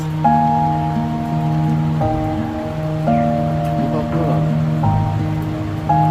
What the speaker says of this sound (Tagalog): Maulan yung panahon.